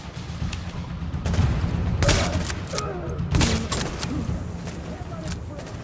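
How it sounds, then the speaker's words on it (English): Gunfire aimed at the player in The Division, sharp bursts of shots cracking out at intervals over a rumbling game soundscape, with a voice talking over the action. "Somebody's shooting at me."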